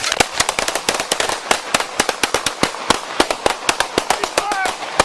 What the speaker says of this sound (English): HQ, shots fired by police.